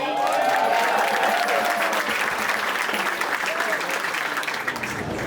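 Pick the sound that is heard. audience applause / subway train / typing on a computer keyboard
audience applause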